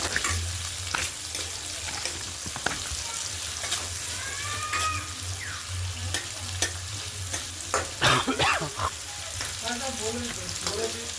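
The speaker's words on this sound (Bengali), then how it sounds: "কুচনো পেঁয়াজ দিয়ে দেবো, দিয়ে ভালো করে পেঁয়াজটাকে লাল লাল করে ভাজতে হবে" Chopped onions fry with nigella seeds in oil for a tilapia and capsicum curry, a steady low sizzle with scattered stirring scrapes and a few louder clatters near the end.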